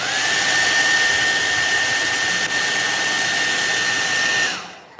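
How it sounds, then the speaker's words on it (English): A blow dryer runs steadily close by, drying paint on a miniature, a loud, constant whooshing whine with a high tone for several seconds before it switches off and winds down. "This is why we take a blow dryer."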